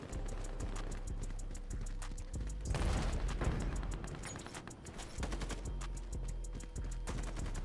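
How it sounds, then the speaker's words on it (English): Rapid, steady automatic gunfire from Ironsight, a multiplayer shooter, cracks in a fast regular rhythm, with a louder burst or explosion in the middle before the firing carries on, and nobody talks. "Oh my gosh, I'm shooting right at him."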